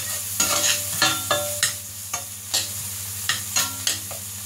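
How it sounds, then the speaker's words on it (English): A spoon stirs potato salad ingredients in a hot pan: repeated scraping strokes at an even rhythm, close and fairly loud over a low, steady sizzle. "Give this a little bit of stirring up"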